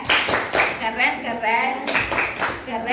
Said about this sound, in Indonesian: Kita kasih tepuk keren dulu yuk buat kelompok 3.